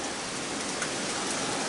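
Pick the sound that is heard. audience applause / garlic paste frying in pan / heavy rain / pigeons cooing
heavy rain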